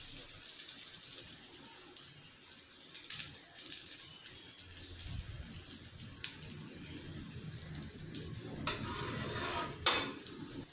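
Lachha paratha frying in oil on a pan, a quiet steady sizzle with soft stirring and scraping sounds and a few brief clinks, no talking.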